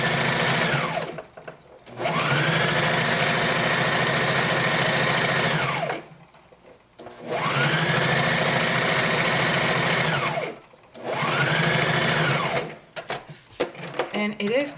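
A sewing machine runs a zigzag stitch on swimsuit elastic, loud close whirring bursts of several seconds each, stopping and restarting three times with short pauses between, and a voice talks during the breaks.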